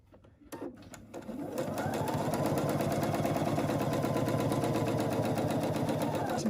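A sewing machine runs a steady top stitch along fabric, starting with a few short bursts before settling into a loud, continuous mechanical whir that holds for several seconds with no voices.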